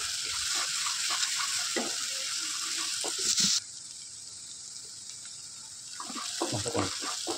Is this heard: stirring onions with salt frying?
yes